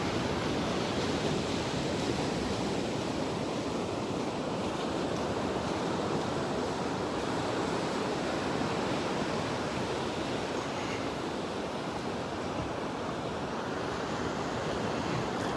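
Ocean surf at high tide on Pawleys Island beach on a foggy winter morning, a continuous loud broadband roar of breaking waves with some wind rumble throughout, and no voices.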